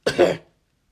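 A single short, sharp cough, close and fairly loud, followed by silence.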